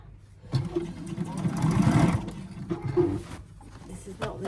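Domestic sewing machine stitching a fabric Easter bag, its motor whirring in a couple of short runs with a mechanical buzz, stopping between bursts while someone talks nearby.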